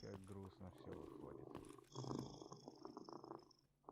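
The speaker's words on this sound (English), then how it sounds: "Listen to the purring." A cat in a video game purrs in a low, steady rumble while a person talks over it in the foreground.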